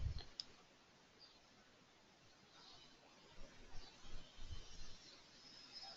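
A computer mouse clicks sharply once near the start, then softer scattered clicks and faint rustling follow over quiet room tone, with no voices.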